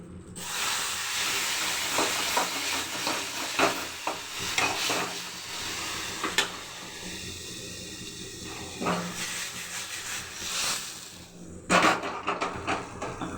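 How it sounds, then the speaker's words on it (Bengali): Greens sizzle and hiss in hot oil with spices, loud and steady, broken by scraping stirs and a few clanks of utensils and cookware, with a sharper crackling burst near the end. "ফোড়নে দিচ্ছি।"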